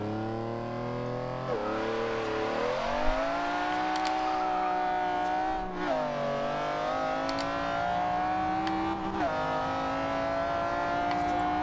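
A 1997 McLaren F1 GT engine in Forza Horizon 2 revs and climbs through gears from the cockpit view, the whine rising and dropping at each shift, steady and smooth.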